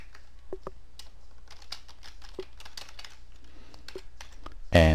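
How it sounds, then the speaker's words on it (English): Keys clatter on a computer keyboard in short, irregular taps, close and fairly soft, ending with a louder burst at the very end. "and I'll type in"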